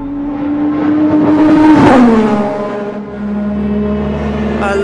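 A racing car engine, Ayrton Senna's former race car, roars past, its pitch climbing and then dropping sharply as it passes close by, leaving a lower droning hum.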